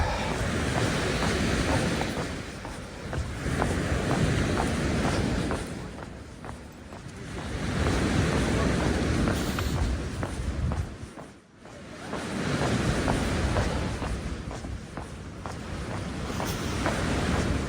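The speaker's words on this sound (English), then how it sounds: "It's actually kind of nice not to have the wind, but yet have the waves." Waves roll onto a Toronto beach on a calm, windless foggy morning, a steady broadband surf wash swelling and ebbing in long surges with a brief lull near the middle, close and fairly loud.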